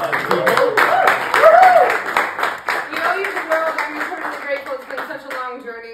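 An audience at a horror film festival Q&A session claps in a dense burst of applause, with voices talking and cheering over it as the clapping thins out.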